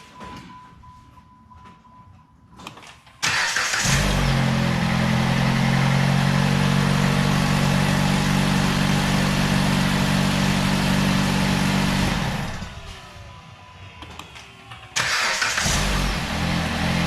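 A car with a hidden battery, freshly replaced, cranks briefly and fires up into a loud, steady idle close by, then the engine shuts off and is restarted a few seconds later.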